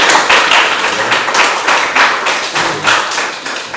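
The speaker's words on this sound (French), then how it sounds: "On peut applaudir pour cette église." A crowd applauding steadily in a reverberant church, loud and close, a dense wash of clapping with a few rhythmic surges.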